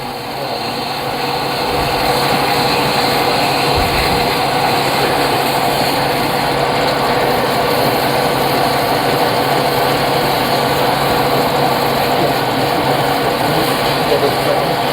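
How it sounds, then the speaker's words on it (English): A wood lathe runs steadily while turning a pen blank, a continuous machine whir with a constant hum that holds at an even level for the whole stretch, with no voices over it. "it seems like this lathe sort of starts much slower than mine"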